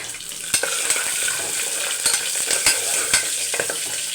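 Curry leaves, bay leaf, cinnamon, cloves and stone flower sautéing in a pan, a steady close sizzle with scattered clinks of a stirring spoon against the pan.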